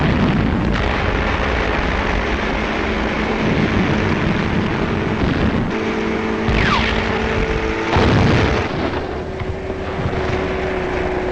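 World War II artillery fire from big guns comes through as a dense, noisy battle roar with heavy booms and rumbling, followed by a loud blast. The sound is thick and distorted, like an old recording.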